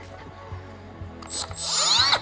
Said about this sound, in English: I'm gonna actually just round these off with a little sanding with this little guy